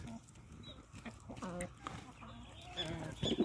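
Hens clucking at feeding time as chayote and a little kale are offered at dusk, several birds calling close by in irregular bursts that grow louder toward the end.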